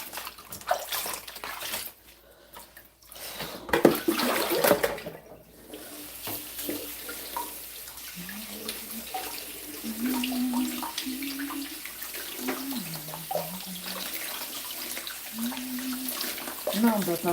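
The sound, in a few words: tap water running while washing produce for green juice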